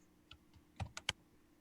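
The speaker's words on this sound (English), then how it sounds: "so I'll just type in tool corner radius." Someone types briefly on a computer keyboard, making a few faint, sparse clicks followed by three louder keystrokes close together in a quiet room.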